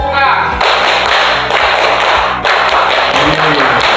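Classroom of students doing the rhythmic Indonesian scout clap, tepuk pramuka, loud sharp group claps in a quick patterned beat with brief pauses, close and dominant, with voices faintly beneath.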